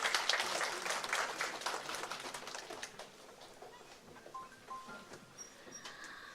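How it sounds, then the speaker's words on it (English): Seminar audience at a pre-school education event claps, loudest at the start and thinning into scattered, fading claps, with faint chirps and room noise beneath. "please give a big round of applause"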